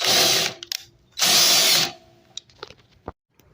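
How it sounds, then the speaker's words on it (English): A cordless drill lowering camper tongue jacks whirs in two bursts of about half a second and a second, followed by clinks and clatter of metal parts. "I'm gonna use my cordless drill to lower the jacks"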